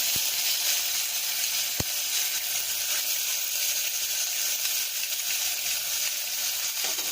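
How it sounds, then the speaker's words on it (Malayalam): Curry leaves, garlic and ginger sizzling in hot oil with fenugreek seeds for a Malabar sardine curry, a loud continuous hiss with a couple of sharp ticks, close by with no voices. "ഇനി അതിലേക്ക് നമുക്ക് കറിവേപ്പിലയും വെളുത്തുള്ളിയും ഇഞ്ചിയും ചേർത്ത് കൊടുക്കാം."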